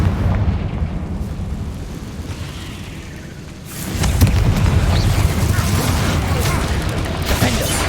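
Confringo blasting spell in Hogwarts Legacy, a loud fiery burst and rumbling explosion that erupts midway over a continuous roaring game background.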